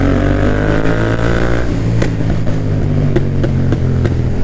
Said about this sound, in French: Ah, c'est une moto